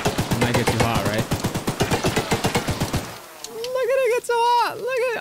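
A rapid-fire gun in the video game Choo Choo Charles fires a loud, continuous stream of shots for about three seconds and then stops. Tonal, creature-like sounds follow.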